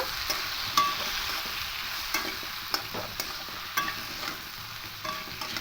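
Potatoes fry lightly with turmeric powder in a pan, giving a steady close sizzle broken by scattered scraping clicks from a stirring spoon. No voices.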